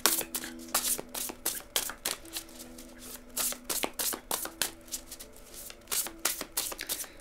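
Tarot cards being shuffled for a reading, a run of quick papery riffles and flicks in an uneven rhythm, close and fairly loud, with no talking.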